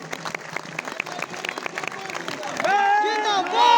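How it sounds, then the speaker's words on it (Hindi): A crowd at a political rally in Sindri claps in a rapid patter, then a loud voice shouts and chants over the fading applause. "ताली बजनी चाहिए।"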